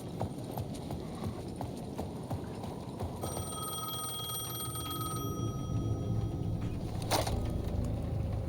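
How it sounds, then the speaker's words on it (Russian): A payphone in the video game Alan Wake 2 rings in repeated bursts at medium distance, over steady ambient game noise and footstep-like clatter. "payphone at the edge of the plaza was ringing again."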